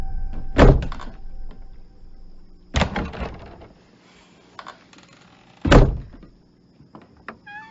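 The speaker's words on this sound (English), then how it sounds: "Can you close the closet door?" A closet door in a scene from the 2018 Halloween film swings and thumps shut, with three heavy door thuds spread across the moment against quiet room tone and no talking.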